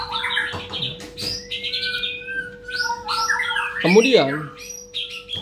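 A white-rumped shama (murai batu), just taken in from sunbathing, gives a run of bright chirps, whistles and a louder squawking burst, close by over a steady hum, with a brief spoken word.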